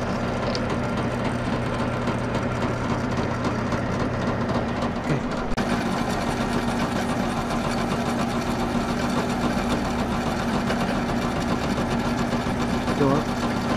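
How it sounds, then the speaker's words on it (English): A Forstner bit spins in a power drill to flatten a chamfer, giving a steady, close, continuous whirring drone that runs almost unbroken throughout. "will use this Forstner bit to flatten out the chamfer at the bottom"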